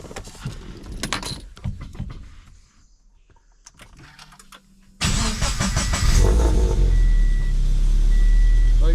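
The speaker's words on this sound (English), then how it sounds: "So now it's time to start the car." A Toyota GT86 / Subaru BRZ / Scion FRS sports car, under repair for a cam plate and coolant leak, is started: quiet handling noises and clicks, then the engine catches abruptly and settles into a loud, steady idle close by.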